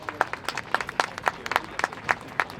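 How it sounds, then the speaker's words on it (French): Crowd at a human rights demonstration in Paris clapping in a sparse, rhythmic pattern, distinct sharp claps landing roughly every quarter second, close and fairly loud. "Un grand merci, sous vos applaudissements encore une fois."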